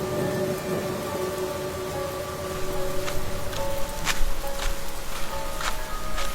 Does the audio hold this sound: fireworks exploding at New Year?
no